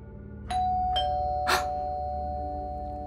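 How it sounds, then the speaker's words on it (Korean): A doorbell rings indoors in an audiobook scene, sounding three clear chime tones in quick succession that ring on and fade over a low steady hum. "다시 초인종이 울렸다."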